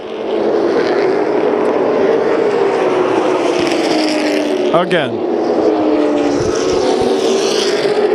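Super late model race cars roar around a track together in the 2009 Fall Classic main, a loud continuous engine drone with a brief pass-by sweep midway, under an announcer's voice.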